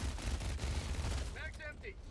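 Rapid bursts of gunfire and explosions in the video game Helldivers 2 rattle on at a steady loud level, with faint electronic tones near the end.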